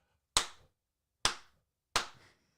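Three sharp, close hand claps spaced unevenly apart, each a crisp isolated smack that fades quickly into near silence.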